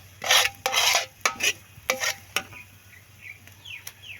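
Pancit noodles being stirred in a pan: a run of loud scraping, rasping strokes against the metal, several in quick succession, fading to softer scrapes and faint clinks near the end.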